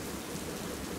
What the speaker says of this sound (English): Rufus decided that the rain was not worth chasing the tennis ball over